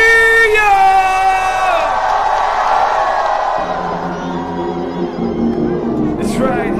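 Festival crowd at a show in Sydney, Australia, cheering and whooping loudly under fading music, a dense sustained roar of yelling voices from a large outdoor audience.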